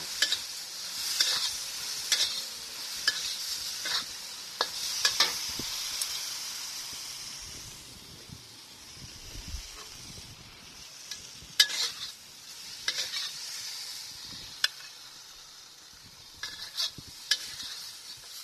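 Okra stir-fried in a pan with tamarind and belacan, a steady close sizzle and hiss broken by repeated sharp scrapes and clacks of a spatula, no talking.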